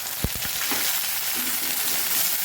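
Tomato added to green garlic sizzling in a pan for methi papdi gathiya shaak: a few clattering drops of the pieces hitting the pan, then a steady loud hiss of frying.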